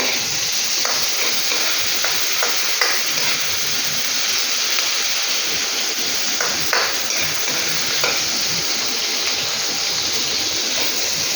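Tomatoes stirred and sautéing in a pan for chicken tinola, a steady loud sizzle with scattered scraping stirs throughout.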